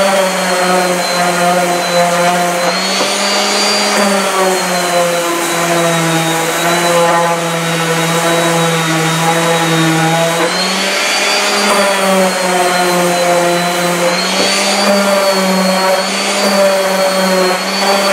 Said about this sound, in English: Alright, we've seen this all before, but it's sanding.